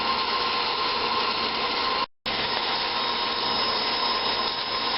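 A saw blade with cutting oil slowly working through steel, making a steady, loud, grinding rasp that runs almost without pause and drops out for a brief instant partway through.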